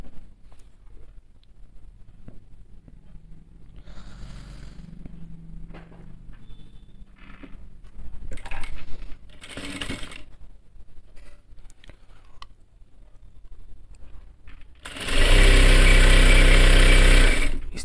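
An electric sewing machine runs a short half-foot stitch along the single panel of a men's kameez, a loud steady whirr of about two seconds near the end, after quieter handling and rustling of cloth.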